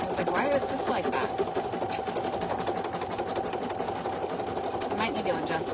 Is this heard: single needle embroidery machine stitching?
yes